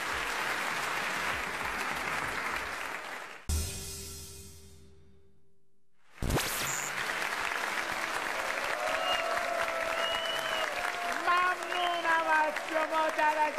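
Studio audience applause at a game-show contest between 1980s- and 2000s-born teams, loud steady clapping that cuts off into a brief quiet gap, then resumes under music and chatter.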